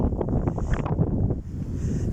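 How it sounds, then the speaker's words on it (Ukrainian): Wind gusts through a flower-filled residential courtyard, a steady rushing and buffeting against the microphone with faint rustling, moderately loud and continuous, no one speaking. "Зараз вітер"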